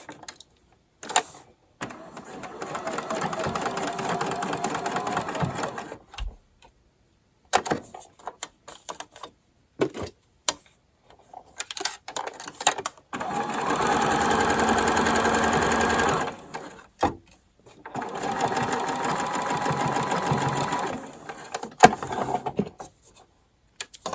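Sewing machine stitching a raglan thumbhole cuff from a raw edge, three separate bursts of fast steady whirring, each several seconds long, separated by quiet pauses with small clicks and handling noises.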